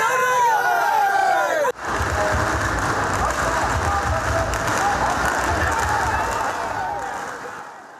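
Crowd cheering and chanting for MLA Uday Gowda at Maddur town municipal election results, a loud sustained roar of many voices after a brief cut, fading slightly toward the end.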